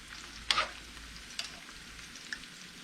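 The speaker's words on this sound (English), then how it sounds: "So we might say like a tablespoon of tomato paste. And we'll put that in there now." Tomato paste sizzles and fries in a hot pan, a short loud hiss at the start when it hits the oil, then a steady low crackle with faint stirring clicks, no voices.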